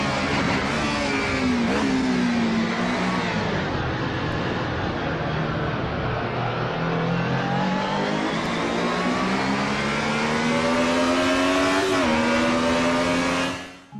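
A high-end touring car mod in the Assetto Corsa racing game revs and pulls through gears in long, loud engine sweeps, the pitch climbing and dropping through corners before cutting off abruptly at the end.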